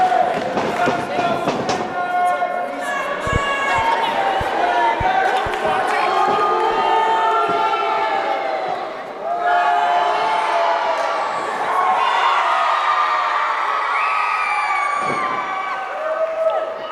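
Wrestling arena crowd in Whitehall, New York cheering and whooping loudly and continuously as a t-shirt is thrown to fans, with a few sharp claps and a commentator talking over it.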